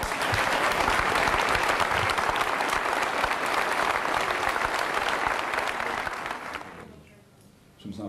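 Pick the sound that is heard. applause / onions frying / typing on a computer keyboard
applause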